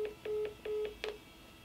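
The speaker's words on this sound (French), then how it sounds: "Veuillez appuyer sur la touche étoile de votre téléphone." Touch-tone key beeps from a telephone keypad, including the star key, come as a quick run of five or six short, clean tones at an even pace, heard close and alone.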